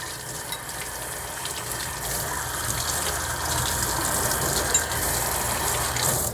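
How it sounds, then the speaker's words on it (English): Water runs steadily from a tap or hose to rinse a gun during restoration, a continuous close hissing gush that holds for several seconds with small splashes and no talking. "Rinse it off with a little water."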